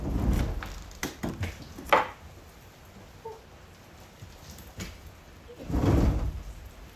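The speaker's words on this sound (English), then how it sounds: "Noise warning for a second. I'm just opening the door." A door being opened indoors, a series of soft knocks, rattles and thuds from the handle and frame, followed by a quieter stretch and then a louder, longer scrape or swing near the end.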